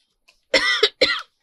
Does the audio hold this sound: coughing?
yes